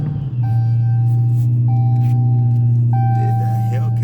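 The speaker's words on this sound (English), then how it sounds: "I think that Hellcat just started up" A 2015 Dodge Challenger Hellcat with a 6.2 engine starts up and settles into a loud, steady, deep idle rumble close by, with a few chime-like tones over it.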